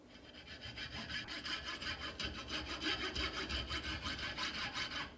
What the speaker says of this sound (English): I'm just using a coping saw here